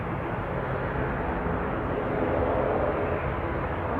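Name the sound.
airplane at Manchester Airport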